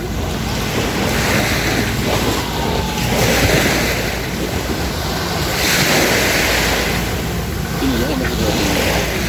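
Sea waves wash steadily against the shore while strong wind buffets the microphone, a continuous loud roar with gentle surges and no clear speech.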